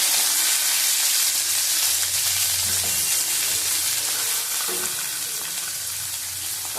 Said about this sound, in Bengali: চিংড়ি মাছ দিয়ে দিলাম আস্তে নিয়ে।